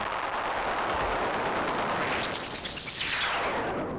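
Dense, crackly clicking texture of low-tuned hi-hats from a Pulsar-23 drum machine through a pitch delay, with a smeared echo sweeping through the high end, continuous and fairly loud with no voices.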